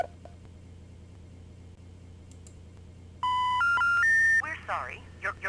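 Telephone keypad tones from the video game Amber: Journeys Beyond, a quick run of about four distinct dialing beeps after a quiet stretch, followed by a brief garbled electronic sound.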